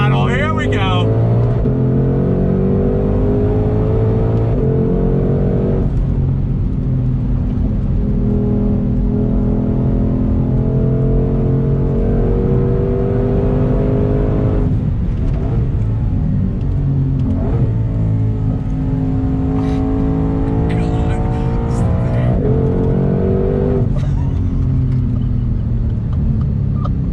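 A 2020 Ford Shelby GT500 pulls hard under throttle, its loud interior engine roar rising in pitch through repeated gear pulls with shifts between, while people talk over the engine.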